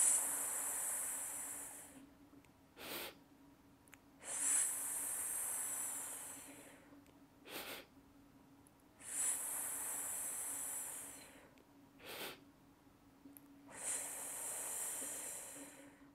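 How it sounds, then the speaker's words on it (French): Four long, slow exhales through the mouth each form a bright, steady S hiss lasting a few seconds, separated by short, quieter inhales at an even, calm pace. "Expire doucement en produisant le son S."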